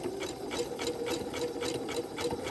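A sewing machine stitching a quilt square runs steadily and close, its rapid even needle rhythm with a constant hum continuing throughout without pause.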